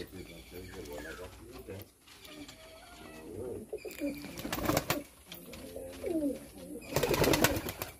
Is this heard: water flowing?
no